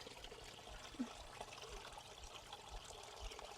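Water flows steadily in a stream while someone fishes with a scoop basket for tiny fish in rural Laos, a faint, continuous trickling wash with no voices.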